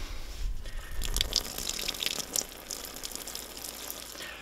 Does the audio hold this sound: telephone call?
no